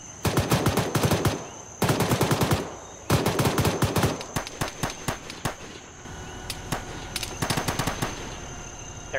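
Arma 3 combat gunfire: repeated rapid automatic bursts, some sustained and others in short clusters, rattle sharply, with scattered single shots and a steady background hum in between.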